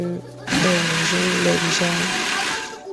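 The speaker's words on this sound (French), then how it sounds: "je vais passer en fait au mixeur. Je vais mixer" A Moulinex blender switches on and whirs loudly and steadily as it mixes oil with the ingredients for a yellow taro sauce, after a brief quieter moment.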